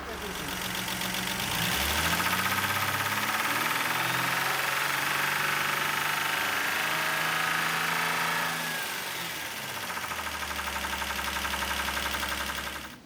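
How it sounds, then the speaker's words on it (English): Ford Granada 2.8i engine during ignition troubleshooting, revved from idle up to a steady 3000 RPM, a loud, near, continuous mechanical drone that holds for several seconds before dropping back toward a lower idle. "So now I will just do one more test and increase the engine speed to 3000 RPM"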